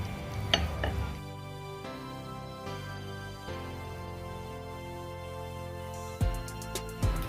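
Fig and prawn curry is tipped from a pan into a dish: metal scrapes and spoon clinks against the pan, a soft pouring stretch, then a few sharp utensil knocks near the end, close and clear.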